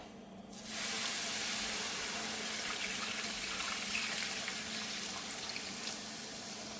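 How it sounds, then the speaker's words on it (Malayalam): Tamarind water poured into a hot pan of frying fish-curry base, a sudden loud sizzling hiss and bubbling that holds steady for several seconds, close up with no talk. "ഇനി ഞാൻ പുളിവെള്ളം ഒഴിക്കാൻ പോവുകയാണ്."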